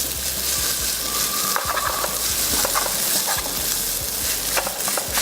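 Blanched noodles sizzle steadily in a wok with a little oil while cooking goi si mee, with a constant hiss and scattered clinks and scrapes of stirring, close and without talk.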